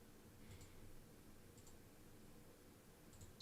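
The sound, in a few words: computer mouse clicking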